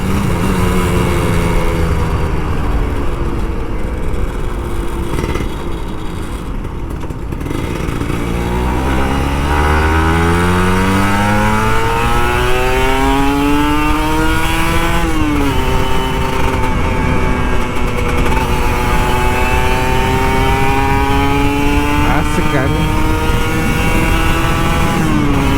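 A Kawasaki Ninja RR 150, an older two-stroke sport bike, accelerates hard on an open road. The engine whines loud and close, its pitch climbing through repeated gear changes.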